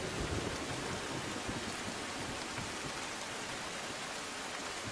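Heavy monsoon rain pours down in Ahmedabad, Gujarat, a dense, unbroken roar of water that stays loud and even throughout with no voices.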